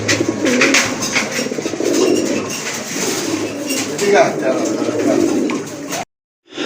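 A pair of pigeons being shown for sale, low repeated cooing close by amid a busy murmur, with a brief spoken phrase before the sound cuts out near the end.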